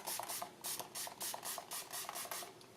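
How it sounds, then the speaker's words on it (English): Repeated bursts of makeup setting spray misted onto a face, about nine quick hissing pumps in a steady rhythm, close and fairly loud with no talking. "So I'm just going to spray my face."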